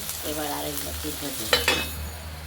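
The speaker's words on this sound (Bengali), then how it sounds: "ছ সাত মিনিট আট মিনিট সময় লাগে এটা ভাজা হতে" Paneer bhapa with mustard and poppy-seed paste, wrapped in bottle gourd leaves, frying in a pan: a close, steady sizzle with a couple of sharp clicks near the middle.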